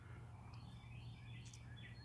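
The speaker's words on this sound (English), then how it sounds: "But birds, I guess you can hear them." Faint bird chirps and tweets scattered over a quiet outdoor background, distant and soft.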